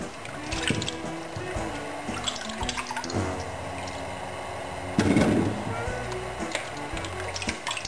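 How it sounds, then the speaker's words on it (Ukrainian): Fresh cherries washed in a bowl or sink of water, with continuous splashing, dripping and trickling close by; a louder burst of sloshing comes about two thirds of the way through. "Ну, Звісно, черешню промити потрібно. Я її кидаю в воду."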